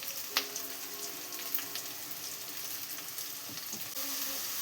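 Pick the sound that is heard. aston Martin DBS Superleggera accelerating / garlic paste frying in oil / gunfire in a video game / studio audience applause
garlic paste frying in oil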